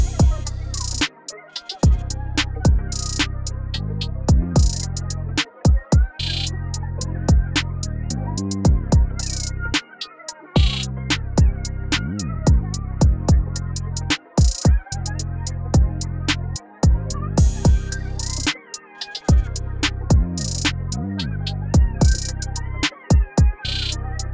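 A trap soul drum beat with a crisp snare cutting through steady kicks and hi-hats, playing alone in a repeating groove.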